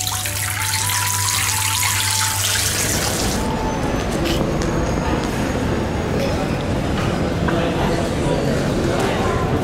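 Water runs from a sink tap in a washroom, a steady close splashing rush with a deep hum at first, then continuing under someone speaking.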